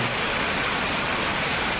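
Steady rain hisses evenly throughout, a dense broadband wash with no voices or breaks, during a bike ride at Bitbit Bridge, Norzagaray, Bulacan.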